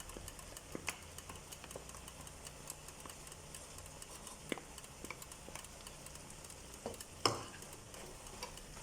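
Tomato sauce is stirred into a pot of frying ingredients for Dominican moro, giving a low, steady sizzle with scattered spoon clicks and scrapes and one sharper knock near the end.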